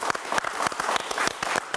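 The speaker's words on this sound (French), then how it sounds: "Merci, on vous applaudit." An audience claps steadily in a brisk, sustained round of applause, close and fairly loud, with no voices over it.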